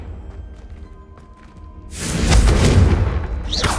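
A loud fiery blast from the Confringo fire spell in Hogwarts Legacy erupts after a quiet stretch, swelling into a broad roaring burst that lingers and crackles for the remaining seconds.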